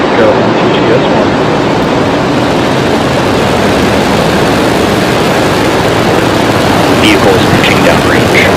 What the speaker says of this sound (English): Ignition and liftoff. Go Falcon, go MTG-S1.